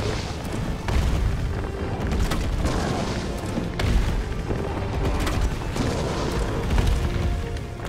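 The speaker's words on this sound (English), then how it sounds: "Fire the explosive round at him there" Explosive rounds slam into a boss in Resident Evil 3, heavy booming impacts and crashing blasts stacking in a loud, constant roar of combat with brief sharp hits on top.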